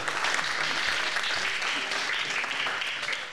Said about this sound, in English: It's the clapping.